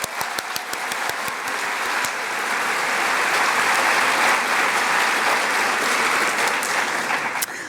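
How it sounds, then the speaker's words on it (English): An audience applauds at a university graduation celebration, with a few sharp separate claps at first that quickly build into dense, sustained clapping, loud and close, fading slightly at the end. "Let's give another round of applause for Grace Coffey."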